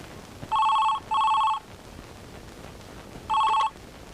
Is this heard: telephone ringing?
yes